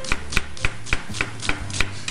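Knife chopping half an onion on a cutting board, about eight crisp evenly spaced strokes in quick rhythm, close and clear with no talking.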